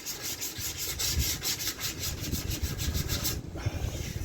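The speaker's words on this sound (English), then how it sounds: "take the sandpaper across these edges here because there's still a wee bit of sharpness" Sandpaper rubbed back and forth along the edges of a rustic wooden mantelpiece, a steady rhythmic rasping of close strokes that keeps going without pause, with no talk.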